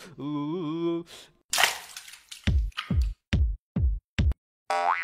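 Cartoon water splashing and dripping: a tonal boing-like sound, then a bright splash followed by a series of evenly spaced, punchy plopping drips, loud and close.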